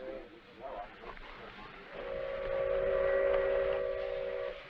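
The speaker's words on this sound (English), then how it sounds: "Sounds to me like the fast freight coming in" A fast freight train arrives at a station, its whistle sounding a sustained steady blast in the middle distance over a low rolling rumble, with a brief murmur of voices at the start.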